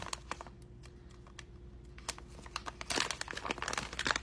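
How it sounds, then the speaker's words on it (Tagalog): A package of 3F Food dried mango being opened, with close, crisp plastic crinkling and tearing that starts sparse and quiet and grows busier and louder toward the end. "So this is how I unpack this one. So buksan natin."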